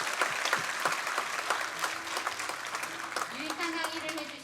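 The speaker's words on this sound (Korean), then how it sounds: "유익한 강의를 해주신 박동희 강사님과 임국기 강사님의 다시 한번 큰 박수 부탁드립니다" Audience applause at a special lecture on the Battle of Yeongcheon for local public officials, steady dense clapping with a few sharper claps and faint voices underneath.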